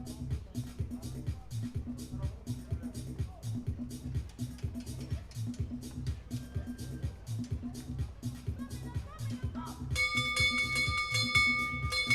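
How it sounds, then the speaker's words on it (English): A last-lap bell rings at an open track meet during a 1,200 m race, a bright repeated clang near the end, under continuous announcer commentary. "take the bell at 2 minutes 41 seconds"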